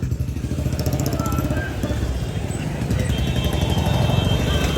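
Motorcycle engines idle and rev in a busy bike market near Geeta Colony, a continuous close mid-pitched engine rumble with rhythmic putter, voices faintly mixed in.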